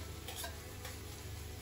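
Garlic, carrot and cabbage being stirred and fried in a pan during a cooking workshop, giving a soft continuous sizzle with a couple of brief scraping stirs near the start.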